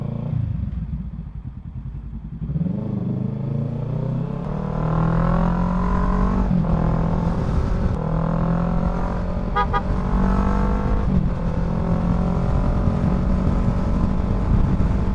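A motorcycle rides along the road toward Cavite on the Cavitex expressway, its engine a steady, close drone with rising and falling pitch under constant wind rush, and no talking.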